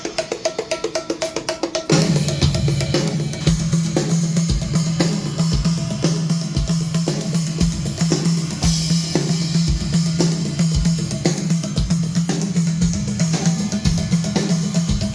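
A looping drum pattern plays a 5/16 over 4/4 polyrhythm, with a softer intro giving way to punchy repeated hits and a crash cymbal on the one every five bars marking the cycle.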